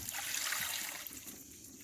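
Engine coolant trickles and splashes out while the thermostat is removed from a Dodge Charger Scat Pack, a steady hissy pour with faint low knocks, close and alone without talk.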